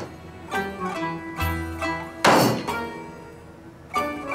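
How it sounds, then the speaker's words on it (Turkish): Bones are struck and broken on a kitchen counter, a series of sharp, close thunks and cracks at uneven intervals, with one louder crunching blow in the middle. "Abim niye tezgahın üstünde kemik kırıyor?"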